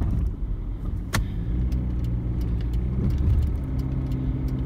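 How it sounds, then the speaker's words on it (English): A car idles with a steady low engine rumble while it breaks down and stops in the middle of the road, with a sharp click near the start and faint jingling on top. "his car is breaking down"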